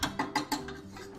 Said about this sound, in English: So now we're going to remove our whisk attachment